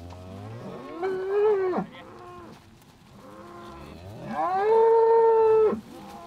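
Cows on a pasture in the Condroz region being moved between plots, giving two long, loud, close moos, each rising and holding before breaking off, separated by a quieter pause.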